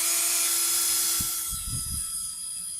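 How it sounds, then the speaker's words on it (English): A high-pitched electric drill whines steadily while drilling out factory spot welds on a Volkswagen quarter panel, then winds down, followed by a few low knocks and thumps. "Here I was drilling out the factory spot welds to remove that lower"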